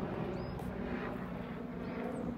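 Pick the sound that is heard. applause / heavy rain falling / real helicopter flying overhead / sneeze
real helicopter flying overhead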